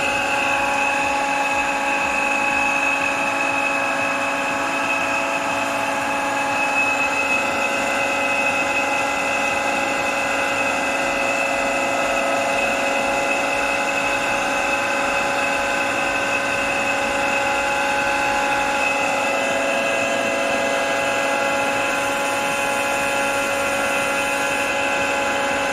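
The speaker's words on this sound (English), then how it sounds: "So it's not the most silent unit." An almost 40-year-old Eberspacher D3L diesel heater under restoration runs steadily with a constant whirring hum and tonal whine, its fuel pump connected and a D2 exhaust fitted, loud and unbroken throughout with no talk.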